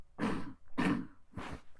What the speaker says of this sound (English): Clear my throat, pardon.